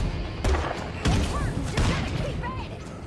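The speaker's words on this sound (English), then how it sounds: "I take a shot to see if I can clear it here" Gunfire in the zombie survival game State of Decay 2, several sharp thumping shots at irregular intervals against a busy game background, with someone talking over them.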